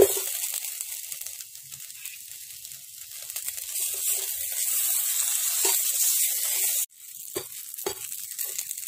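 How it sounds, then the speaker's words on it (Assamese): Steady, close sizzling of dried fish frying in a wok, with a few scraping stirs and a brief cut near the end; no voices. "একেটা কেৰাহীতে মই শুকান মাছখিনিও অকণমান ভাজি ল'ম"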